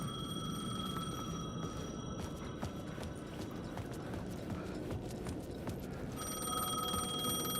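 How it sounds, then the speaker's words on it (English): A payphone ringing in the video game Alan Wake II, a repeated electronic bell tone sounding over a dense, clattering game backdrop, moderately faint and continuous. "The payphone was ringing."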